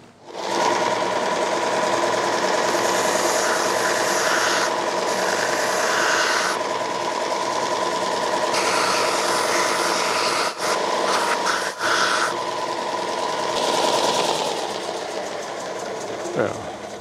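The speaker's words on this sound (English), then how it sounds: "I'm going to take it to the belt sander and just true that off before I stitch it." A belt sander trues the glued edge of a leather holster, giving a loud, continuous motor whir with a rough grinding rasp that holds steady for the whole stretch, easing and shifting only briefly as the piece is repositioned.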